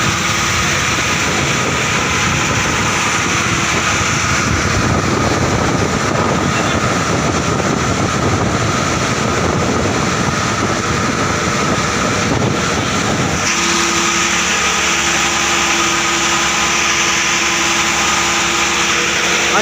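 A steady, droning boat engine runs loud and close throughout, its pitch dropping to a lower, smoother hum for the last few seconds.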